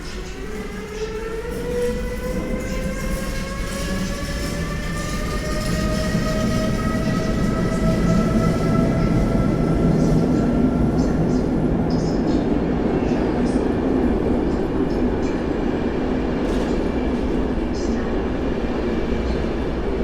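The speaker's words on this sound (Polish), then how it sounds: "Pociąg Intercity." An intercity train rolls through a station at close range with a steady heavy rumble, rising then falling whistling tones from the wheels and brakes, and a constant loud hiss.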